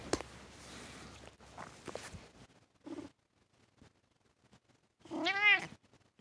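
A cat meows once in annoyance, a loud, close, pitch-bending cry near the end, after soft footsteps and rustling and a brief earlier squeak.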